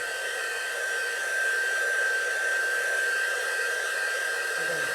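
A hair dryer blows steadily on fresh paint on a wooden bunny birdhouse insert, a loud, constant whooshing hum with a thin high whine, close and uninterrupted.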